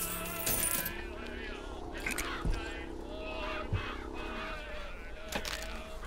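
Crows caw in short, scattered calls through a dim BioShock Infinite game scene, set against a low ambient drone with an occasional metallic clink.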